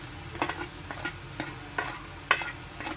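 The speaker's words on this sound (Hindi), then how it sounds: "ये हमारा प्याज फ्राई हो चुका है। अपना कलर चेंज कर होने लगा है इसका" Onion frying in a pan turns reddish as it cooks, a faint soft sizzle broken by a spatula stirring and scraping at an irregular pace, close and quiet with no talk.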